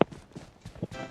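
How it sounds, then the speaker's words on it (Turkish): A few soft, irregular footsteps thud at close range in PUBG Mobile, with a sharp knock at the start and quiet game ambience behind. "Nerede bu ayak sesi geliyor da."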